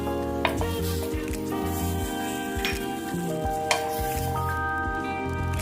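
Tamarind sizzling and frying in a hot pan for a red chilli chutney, a steady close crackle with occasional clinks of a utensil stirring against the pan, no talking.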